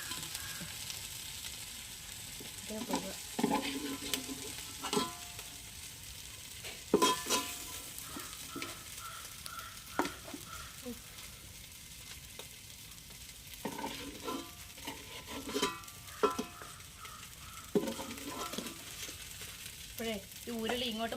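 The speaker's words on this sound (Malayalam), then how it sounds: "ഇപ്പൊ നമ്മൾ രണ്ടാമത്തെ ചിക്കനും ഒന്ന് ഫ്രൈ ആയിട്ടുണ്ട് ഹാഫ് ഫ്രൈ" Chicken pieces frying in oil in a pan during a Kerala-style chicken perattu, with a steady sizzle broken by repeated scraping and clinking of a spoon stirring against the pan, heard close and without talk.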